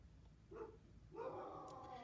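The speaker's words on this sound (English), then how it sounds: "Oh, excuse my dogs. They're going crazy upstairs." Dogs barking and yipping from upstairs, two short muffled bursts at a distance, faint and indoors.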